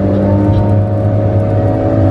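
A Tigercat skidder's diesel engine held wide open at full throttle, a loud, close, steady droning roar with strong low tones that stays constant throughout, no talk.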